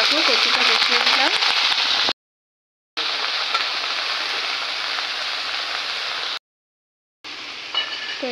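Taro pieces sizzle loudly as they fry in a pan, a steady bright hiss broken by two short silent gaps, with faint voice-like tones at the start.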